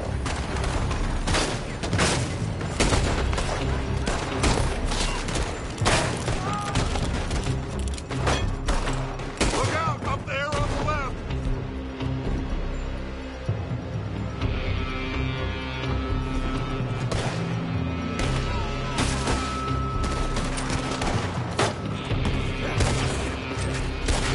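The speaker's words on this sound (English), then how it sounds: "They're shooting from that building." Dense, continuous gunfire in the Red Dead Redemption 2 video game as shooters fire from a building: overlapping shots, booms and thuds, loud throughout with no pause.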